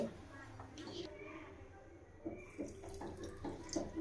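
Water pours and trickles into a grinder close by for grinding a paste, a soft gurgling stream with small splashes, under quiet background talk.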